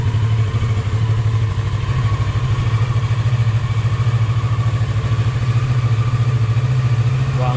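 A Kawasaki Ninja 650 motorcycle idles steadily close by after starting on a new Yuasa battery, a low, even engine rumble with a slight rhythmic pulse and no revving throughout.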